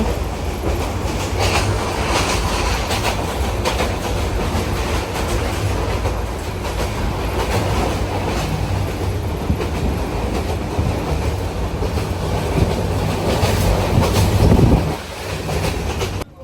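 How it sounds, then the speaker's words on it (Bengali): The Mahanagar Express passenger train rumbles steadily from inside, speeding toward Chittagong, with a constant roar and rhythmic clatter of wheels on track, loud throughout. "আমাদের ট্রেনটি কিন্তু ভালো গতি নিয়ে চট্টগ্রামের উদ্দেশ্যে ছুটে চলছে"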